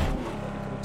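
Car engine droning steadily while driving off-road in the battle royale game PUBG on the Miramar desert map, a continuous mid-pitched motor hum held close and loud for a brief moment.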